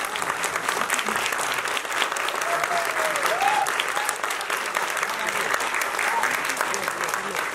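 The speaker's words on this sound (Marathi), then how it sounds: "एकदा जोरदार टाळ्या श्री देवी माऊली दशावतार मंडळींसाठी" A large audience claps loudly and continuously for a Dashavatar folk theatre troupe, a dense, even wash of applause with a few faint voices inside it.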